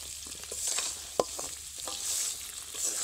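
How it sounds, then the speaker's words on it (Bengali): Sugar syrup for kathi goja stirred in a wok, a soft continuous sizzle and bubbling with scraping strokes of the spatula and one sharp clank against the pan, close and fairly quiet. "ঘন ঘন নাড়তে থাকতে দেখুন চিনির শিরাটা কিন্তু একদমই অন্যরকম, এই যে শুকিয়ে আসছে"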